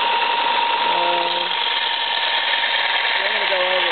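A motorized sharpening wheel for Japanese chisels runs with a loud, steady mechanical drone and buzz, while a voice speaks briefly over it.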